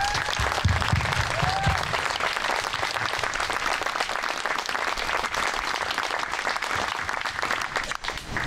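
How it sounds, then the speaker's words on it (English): A crowd applauds Vietnam veterans at a North Reading town ceremony for the Wall That Heals memorial, steady dense clapping sustained at full strength for the whole stretch. "Let's give them a round of applause."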